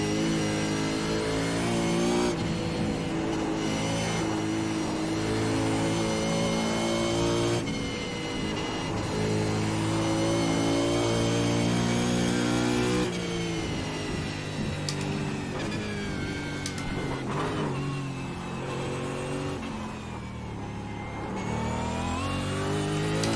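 A supercar engine screams around Bathurst in a racing video game, the high revving note climbing and dropping through gear changes and braking zones, loud and continuous with no talking.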